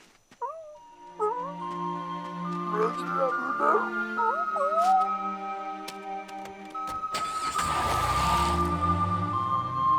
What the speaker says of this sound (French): Ah, vous avez un chien?